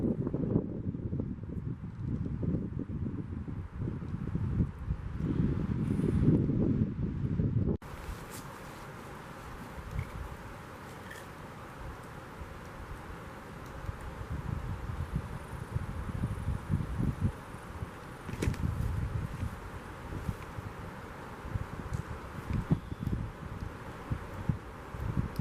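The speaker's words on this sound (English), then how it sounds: "Here comes the wind." Wind gusts through a bushcraft tarp camp, a loud rumbling buffet on the microphone for several seconds, then a steadier, softer rush with intermittent gusts and rustling.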